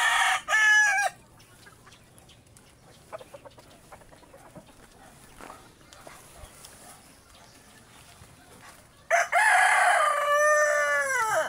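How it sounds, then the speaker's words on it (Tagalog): Farm chickens being fed: a rooster crows loudly at the start and again near the end, with softer scattered clucks and pecking in between, and a dog barking faintly. "Tuwan-tuwan mga manok pag napapakain."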